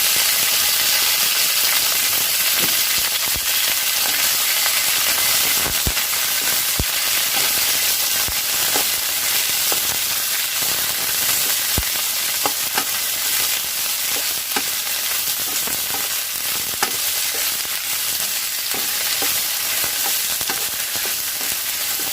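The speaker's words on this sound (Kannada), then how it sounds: "ಇವಾಗ ಒಂದು ಸ್ವಲ್ಪ ಎಣ್ಣೆ ಹಾಕ್ಕೊಂಡು ಹುರ್ಕೊಳ್ತಾ ಇದ್ದೀನಿ ನಾನು" Okra frying in oil for gojju, giving a dense, continuous, close sizzle with scattered crackles and light stirring ticks throughout, and nobody speaking.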